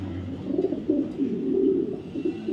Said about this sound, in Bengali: একটা রেস করা একটা মাদি কবুতর